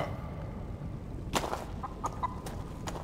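A chicken in the video game Blade and Sorcery clucks in short, separate bursts over a quiet ambient background, a few sharp calls near the middle and end, fairly close.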